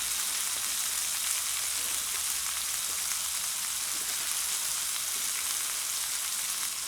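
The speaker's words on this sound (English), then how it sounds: "Very important to get a hot pan with a ribeye." Ribeye steaks sear in a hot pan at an outdoor day camp, a loud, continuous, dense sizzle and crackle that holds steady throughout with no voices.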